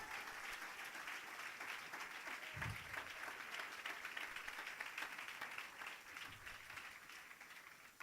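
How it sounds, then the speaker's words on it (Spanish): A church congregation applauds together, a sustained, even wash of clapping from many hands that carries on for about eight seconds, with faint crowd sound under it. "Aplaude al Rey."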